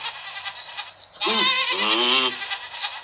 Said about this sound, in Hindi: इस बकरी को क्या हो गया जो इतनी रात को शोर मचा रही है?